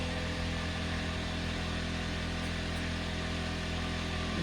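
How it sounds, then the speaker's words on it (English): An air compressor runs steadily while inflating a trailer tire, giving a constant, fairly quiet mechanical hum and drone with no breaks. "Let that compressor catch up to me."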